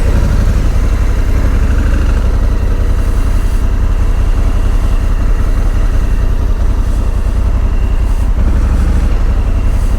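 Congested street traffic in Georgia, a dense, unbroken low engine drone from idling cars and motorcycles packed close together, loud and steady for the whole stretch with no voices.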